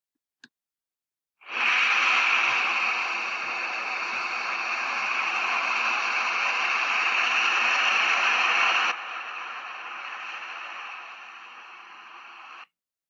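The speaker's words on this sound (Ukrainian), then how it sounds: "Це були звуки моря, коли хвилі бризкаються один об одну." A steady, dense wash of broadband noise like rushing sea waves, continuous and fairly loud, dropping slightly in level partway through before cutting off.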